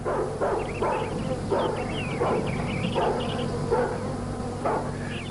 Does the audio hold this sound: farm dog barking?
yes